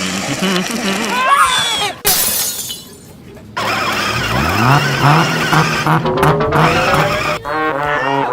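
A Power Wheels Monster Jam ride-on toy truck rolls along with a whining motor and scraping, crunching rumble, mixed with loud children's shouts and squeals and a sharp rattling clatter partway through.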